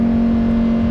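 A Lamborghini Huracan STO engine holds a steady, loud, droning note for about a second, with no break in the sound.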